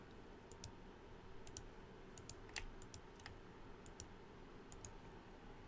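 Quiet typing on a computer keyboard, a loose run of soft, close key clicks in irregular clusters over a faint background hiss, with no talking.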